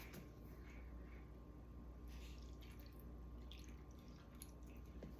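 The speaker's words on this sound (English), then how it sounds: "So I start with soy sauce." Soy sauce being poured for a stir-fry sauce, heard as a faint, steady trickle of liquid against a low background hum.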